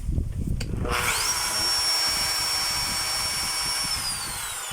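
A 5 kg demolition hammer with a suspected broken connecting rod runs without hammering, a steady high motor whine and whir that starts abruptly and continues at close range.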